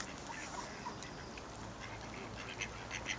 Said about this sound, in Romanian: Aici sunt și rațe și lebede, aici lângă hotel